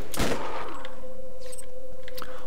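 Gunfire in the video game Borderlands 4, a loud close shot with a sharp burst at the start followed by a ringing tone and scattered faint crackles.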